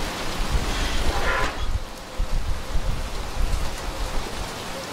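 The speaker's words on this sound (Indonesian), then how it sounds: "tapi di game hujan" Steady rain pours in the video game Little Nightmares 2, a dense continuous hiss with a soft low rumble underneath, even and unbroken with no talking over it.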